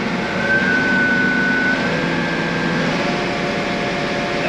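A John Deere 4020 tractor engine runs steadily near the listener, its continuous mechanical drone holding even as it is throttled up toward 1800 rpm.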